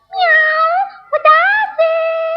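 A cat meows twice in a row, loud and close, each call long and tonal with a rising-falling pitch, heard alone as a story cassette sound effect.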